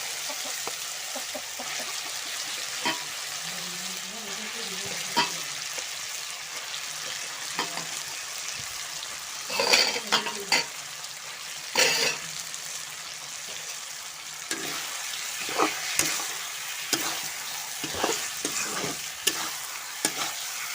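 Chicken meat frying with ginger-garlic paste in a pan, a steady close sizzle under repeated scraping stirs and knocks of a spoon at irregular intervals.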